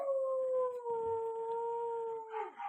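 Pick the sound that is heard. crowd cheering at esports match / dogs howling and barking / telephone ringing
dogs howling and barking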